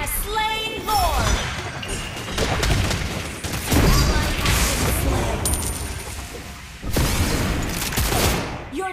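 A mobile battle arena game erupts with dense explosions and rapid gunfire-like bursts as a turret is destroyed, loud and continuous, with announcer voice callouts over the din.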